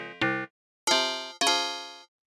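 Three bell-like tones come from a preset in a free FM synth plugin. The notes are bright and ringing and each decays smoothly, with short silences between them.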